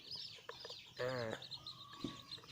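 Newborn chicks being sorted keep up high, thin peeping in the background while someone talks nearby, with a brief louder squawk partway through.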